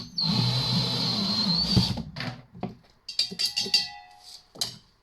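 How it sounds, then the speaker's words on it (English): A cordless drill whines steadily as it strips copper wire, then falls into short stuttering bursts and squeaks as the bit catches and slips, close and fairly loud with no talking. "This drill is not the best drill for it."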